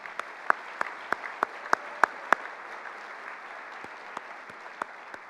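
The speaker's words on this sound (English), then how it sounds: "let's give them a round of applause." Scattered applause from a small crowd at an annual chamber dinner, steady patter of clapping with a few sharper, louder claps standing out.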